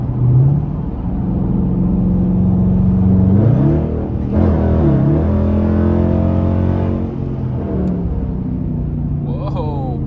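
A straight-piped 5.7 engine with gutted catalytic converters rumbles loudly from inside the vehicle, its pitch climbing and dropping through several revs and throttle changes, with a voice talking over it.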